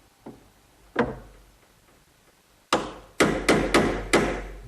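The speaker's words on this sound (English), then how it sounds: "just using a chisel, I'll remove the right amount of material" Sharp chisel strikes cutting a hinge mortise in hard oak: one faint tap and a single knock, a pause, then five loud, evenly spaced close-up blows in quick succession.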